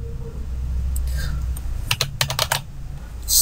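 Typing on a computer keyboard while writing code for a Laravel web page, with scattered keystrokes giving way to a quick run of crisp, close clicks.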